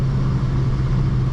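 A 2003 Toyota Yaris with a 1.3-litre engine holds a steady 4000 rpm on the motorway, a loud, even droning hum with road rumble underneath and no variation.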